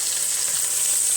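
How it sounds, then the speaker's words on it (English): Chicken sears in a hot pan with a constant, bright, close sizzle that holds evenly throughout. "So we're going to let this sear for about 5 minutes on this side"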